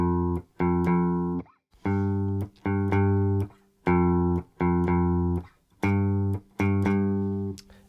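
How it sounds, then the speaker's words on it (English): Bass notes on an acoustic guitar played with a capo, alternating between a lower and a higher pitch in a steady repeating pattern of strummed chord hits with short gaps, clear and close. "You should hear that the bass is playing two notes, a lower note and a higher note"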